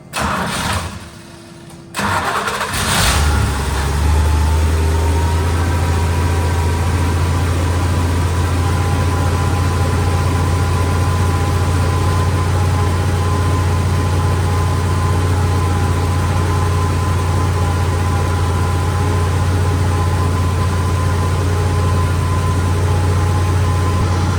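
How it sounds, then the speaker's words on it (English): An old car engine left unused for 25 years, run with jumped ignition and an electric fuel pump, cranks briefly, catches and then holds a fast, loud, steady idle with a strong low hum for over twenty seconds. "Idling pretty fast, but I have the idle screw all the way out."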